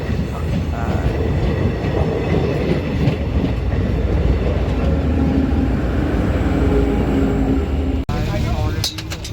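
A train rolls steadily past a level crossing with a busy bus nearby, its loud continuous rumble and wheel clatter filling the scene throughout before cutting off abruptly near the end.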